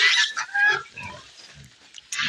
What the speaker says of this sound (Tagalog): nandito yung ating native na baboy